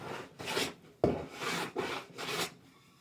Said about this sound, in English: So it's taking a nice fine shaving.